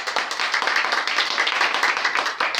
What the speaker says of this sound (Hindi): बच्चों एक बार जोरदार ताली सर के लिए